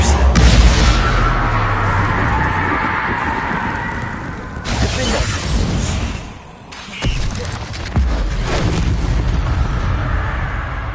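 A fiery Confringo spell blast in Hogwarts Legacy, a loud booming explosion with a shattering crack followed by rumbling debris, repeated after a brief lull, dense and close.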